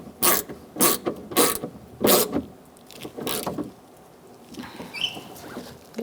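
A ratchet wrench tightening bolts on a 2002-2006 Honda CR-V front exterior door handle: several short, close clicking bursts in quick succession, then quieter faint ticking and creaks, with no speech.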